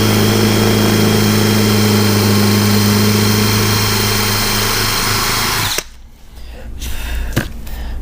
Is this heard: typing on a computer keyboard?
no